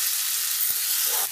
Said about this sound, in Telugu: చూసినట్లయితే బాగా వేగుతున్నాయి